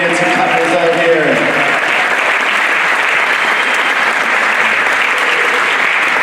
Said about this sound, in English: How about a big round of applause for our beautiful dancing couples out here?